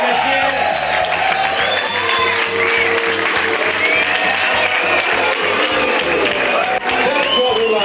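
A crowd cheers and applauds for the winner of the Gumball 3000 rally, a dense continuous roar of clapping and whoops, while someone talks loudly over it.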